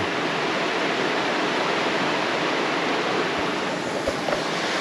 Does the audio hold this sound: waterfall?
yes